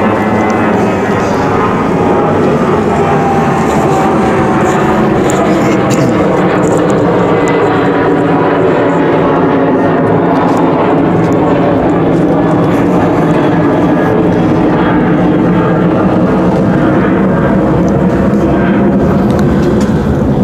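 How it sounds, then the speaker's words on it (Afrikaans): A fixed-wing airplane passes overhead, a loud continuous engine roar that fills the whole stretch, with people speaking faintly beneath it. "Ekskuus dat ons net gou hierdie vliegtuig afsien."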